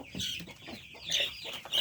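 Farm chickens on a poultry farm give a few short, quiet clucks in uneven bursts, heard close by with no talking.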